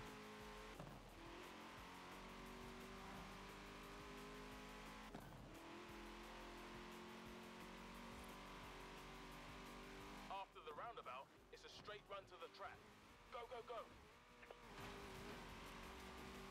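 Engine of a Hennessey Venom supercar in Forza Horizon 4, a sustained high drone of revving with occasional tire noise, while someone talks over it throughout.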